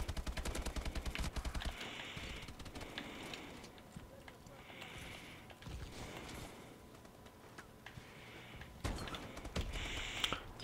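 Gunfire from the shooter game Call of Duty: Advanced Warfare in a team deathmatch, with rapid automatic bursts early, scattered shots, and clattering mechanical effects, at moderate level, while a person talks now and then.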